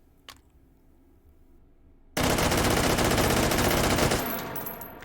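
A QBZ95 rifle fitted with a muzzle brake fires on full auto in the game H3VR. It is known for a very high rate of fire. After about two seconds of near quiet, one loud, dense, unbroken burst roars for nearly three seconds and then tails off.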